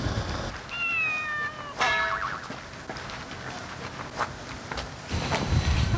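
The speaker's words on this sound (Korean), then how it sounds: "고양이 소리가 나서 확인하는 것도 있고" A cat meows in a few short, close calls, one sharp and rising, amid scattered light clatter and footsteps.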